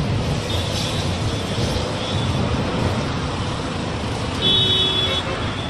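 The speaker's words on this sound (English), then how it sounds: "Look at cars down" Steady road traffic hums from the street below a hillside viewpoint in Kano, Nigeria, with cars passing continuously and a brief horn toot near the end.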